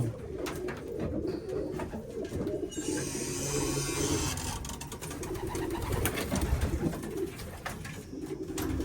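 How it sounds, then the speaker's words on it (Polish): Domestic pigeons cooing steadily inside a pigeon loft, several birds murmuring close by with a continuous low rumble and shuffling, and a brief hissy rustle partway through. "Chodzimy tutaj na ten gołębnik."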